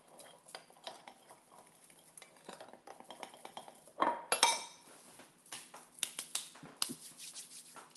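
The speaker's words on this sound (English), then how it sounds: "Mix those together." A utensil stirs powdered dry ingredients and half a teaspoon of salt in a bowl for cottage cheese flatbread, with light scraping and small clinks throughout and a louder clatter of spoon against bowl partway through.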